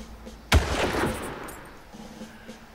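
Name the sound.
gunshots in a video game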